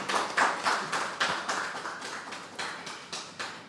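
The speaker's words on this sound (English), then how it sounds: "A lusty round of applause" Audience applause at a concert press conference, a moderate group clapping in a fairly steady rhythm, close and continuous, slowly tapering off.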